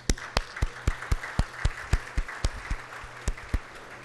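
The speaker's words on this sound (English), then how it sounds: "Could you please stand up so we can all applaud you?" Sparse applause from a small audience at a Google for Pakistan event, with individual claps spaced clearly apart in a steady rhythm, fairly near and unaccompanied by speech.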